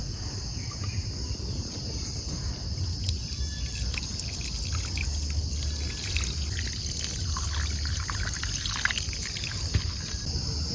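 Water is poured out while food is washed in a Kenyan village, a soft, steady splashing stream against a constant background of chirping crickets.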